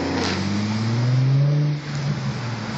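Audi S5 exhaust revving hard, a loud rising engine roar that holds, then drops off sharply with a brief burble as the revs fall.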